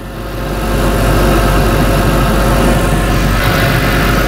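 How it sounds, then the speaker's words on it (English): An air conditioning compressor clutch engages on a 2003 Ford Thunderbird engine. The steady, loud, close idle drone shifts slightly in tone late on, with no voices over it. "I just heard the compressor"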